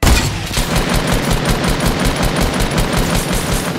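Rapid automatic gunfire in the Fortnite video game, a loud, steady burst of close shots firing continuously without pause.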